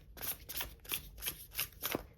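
Tarot cards are shuffled by hand in quick, quiet riffles, about six soft rustling bursts in a steady rhythm, with no talk.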